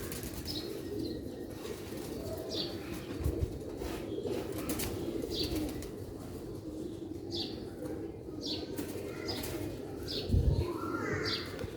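Bateray pigeons coo quietly and flap their wings nearby, with repeated soft calls, chirps and occasional bursts of wingbeats over a steady low background.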